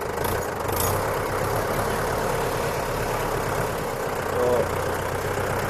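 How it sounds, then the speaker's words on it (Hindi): A Mahindra Yuvo 475 DI tractor engine running steadily in first gear, medium range, on an empty farm field, a loud continuous diesel drone close by, with no talking. "ये इधर डाला मीडियम के अंदर और फर्स्ट गियर अप्लाई करके चलिए।"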